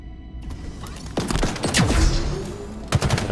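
Rapid bursts of disruptor gunfire in the Halo Infinite Repository mission, with sharp energy shots and thuds layered over game combat noise. A quick cluster of shots lands near the end.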